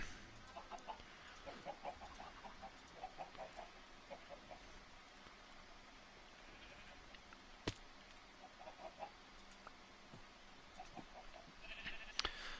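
Chickens in the video game FTB Void World clucking in scattered short bursts, several birds calling on and off at moderate distance, with a couple of sharper clicks and no one talking.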